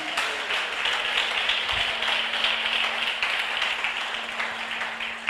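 Church congregation clapping for Jesus Christ during a Portuguese-language service, a sustained, even wash of many hands applauding at moderate loudness with no talk over it.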